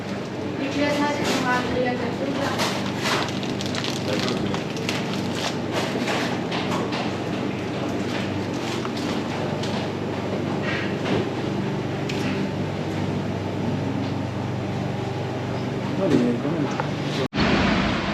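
Tram ride through Constantine: a steady, loud rolling rumble and rattle fills the whole stretch, with murmuring voices blending into the noise and a brief thump near the end.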